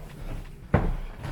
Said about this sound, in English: Hold on, this door locked.